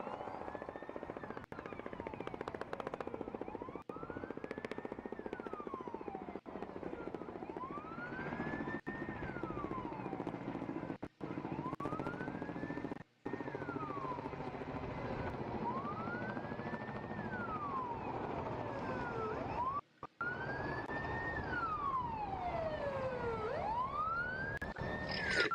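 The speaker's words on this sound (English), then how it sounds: "Still able to hear those helicopters and sirens there in the background." An emergency siren wails in repeated rising and falling sweeps over a steady helicopter rotor drone near Moscow after a concert hall shooting, continuous and fairly distant, with no talking.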